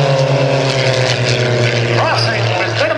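Iron Eagles aerobatic propeller planes cross head-on in an opposing slow roll at the 2010 Greenwood Lake Airshow, closing at over 300 mph; a loud, sustained propeller drone swells with sweeping pitch shifts as they pass, with a voice underneath.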